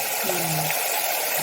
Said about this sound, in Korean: 쌀도 자주 많이 씻어야 돼